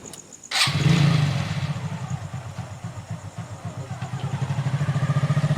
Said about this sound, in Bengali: বাইকটা একবারে ঢুকিয়ে দাও।